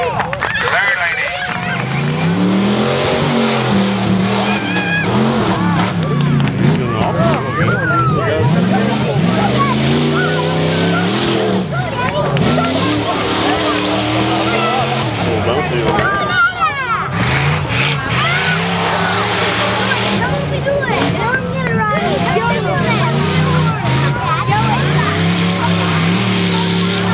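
Modified trucks race at the Tuff Truck event at Dover Fair, roaring engines revving hard and loud with tire noise, running continuously beneath an excited announcer talking over a loudspeaker.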